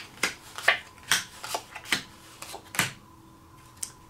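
Playing cards dealt face down one by one for the poker game Iron Cross, producing a steady series of crisp, close snapping flicks and slides on the table, about nine quick strikes with no talking.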